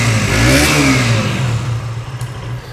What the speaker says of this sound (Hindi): अब आप इसका एक बार एग्जॉस्ट नोट भी सुन लो।